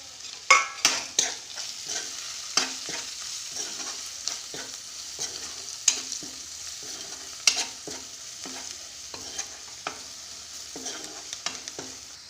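Turmeric, cumin powder, garam masala and meat masala fry in a hot pan for an Assamese dish, with steady sizzling broken by repeated sharp clicks and scrapes of a stirring spoon against the pan, close and clear.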